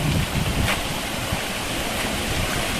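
Asurghati waterfall roars as a steady, dense wash of rushing water, loud and unbroken throughout, with no voices heard.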